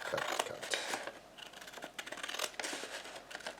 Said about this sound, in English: I'm just going to cut straight across so I can line up the scissors nice and straight and cut.